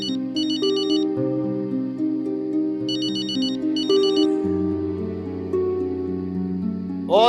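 Mobile phone ringtone playing a loud, repeating electronic melody with steady tones and periodic chirping bursts, continuous and close, with no voices over it.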